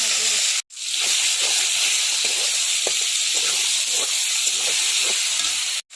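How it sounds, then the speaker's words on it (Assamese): Steady loud sizzling hiss of tomatoes frying in a hot pan, continuous throughout with a brief break near the start. "বিলাহীকেইটা অকণ ভাজি"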